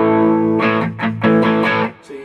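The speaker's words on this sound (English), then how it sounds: "You put the distortion on." Electric guitar played through a Blackstar HT Dual distortion pedal, loud saturated chords struck in several bursts with sustained, gritty overtones, then a quieter tail at the end.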